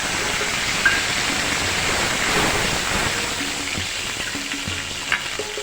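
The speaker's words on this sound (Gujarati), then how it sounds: "બે કપ એક કપ રવો લીધો છે તો બે કપ જેટલું પાણી એડ કરીશું" Water poured into a hot pan of semolina with ginger-chili paste, giving a steady loud sizzling hiss with a few faint clinks and scrapes, close by and without voices.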